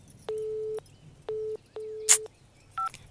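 Telephone call tones from a phone left unanswered: three steady flat beeps of a busy or ringback signal with short gaps, a brief noisy burst between them, then a few higher two-note tones near the end, fairly close and clear.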